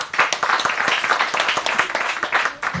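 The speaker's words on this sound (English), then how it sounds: "you can give yourself a round of applause" Audience applause closing a dissemination workshop, steady dense clapping from a crowd that fills the room at close range for a few seconds.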